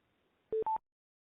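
Telephone dialing for a conference call: two short, clean touch-tone beeps in quick succession, clear and close, with near silence around them.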